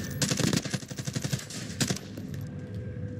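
Automatic gunfire in the Call of Duty Warzone video game, rapid bursts of loud close shots that thin out and fade toward the end, with no talking.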